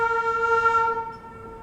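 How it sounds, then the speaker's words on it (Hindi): A train horn at the outer signal, heard from aboard the Malwa Express: a single sustained multi-tone blast, loud and steady, then fading out after about a second, with no talk. "कोई तो ट्रेन वहाँ अराइवल भी ले रही है,"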